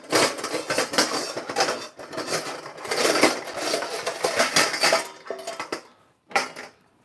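Pots, pans and lids clatter and clink in a home kitchen during Sunday lunch cooking, a dense, busy run of metallic knocks and scrapes close by, easing off briefly near the end before one more burst.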